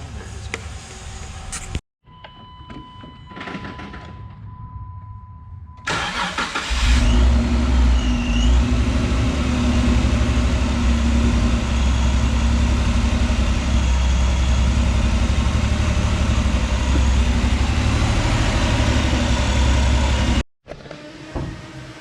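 A Jeep JK engine with a newly installed RIPP supercharger starts after a few cranking and workshop sounds, then settles into a loud, close, sustained idle and rev that runs steadily before cutting off abruptly.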